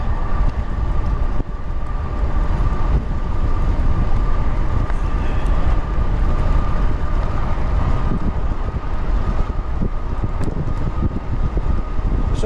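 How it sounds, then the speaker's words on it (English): Wind rushing past a rider on a Revi Rebel 2 e-bike moving at speed, a loud, continuous roar of buffeting air that fills the whole stretch with no pauses. "So much wind in my face right now"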